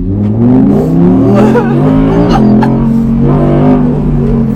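An Audi R8 V10 engine revs loud and close, its pitch climbing and dropping through gear changes in a steady, sustained roar that fills the whole stretch.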